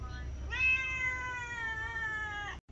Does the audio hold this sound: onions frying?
no